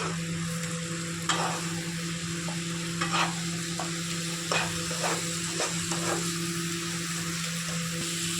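Spice paste with turmeric for a Bengali lote fish curry fries in a pan with a steady low sizzle, while a spoon scrapes and stirs in occasional soft bursts throughout. No voices are heard.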